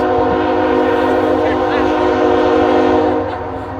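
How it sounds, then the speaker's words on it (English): A train horn blares loud and close in a long sustained chord over the rumble of a passing train at Porteau Cove, then fades slightly at the end. "the train that happens to go by very close to Porteau Cove"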